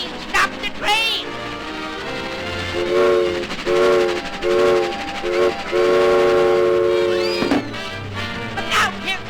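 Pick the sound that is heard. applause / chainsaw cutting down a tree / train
train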